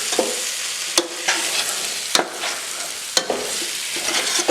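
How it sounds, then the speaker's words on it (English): A spoon scrapes browned bits off the bottom of a pan of buttered chicken gravy on low heat, three sharp scraping strokes about a second apart over a steady close sizzle, with no talking. "just scraping those wee bits at the bottom, don't want it to burn"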